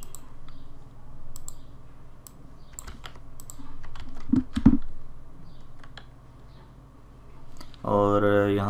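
Keyboard keys clicking in short, uneven bursts as a domain URL is typed into a computer, near and moderately quiet, with a louder cluster of strokes midway before a voice begins speaking at the end.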